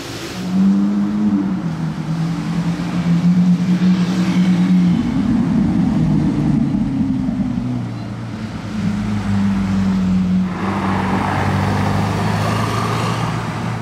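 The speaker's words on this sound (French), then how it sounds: "oula il part à fond, waouh, le V12 là il marche hein" Maybach V12 car accelerating hard on a Monaco street, a deep rising engine roar that swells and holds for several seconds amid wind and traffic noise, with a man exclaiming over it.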